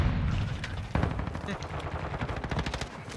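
Sustained rapid machine-gun fire in Modern Warfare 2 rattles on throughout, with a sharp impact near the start, while a player talks underneath.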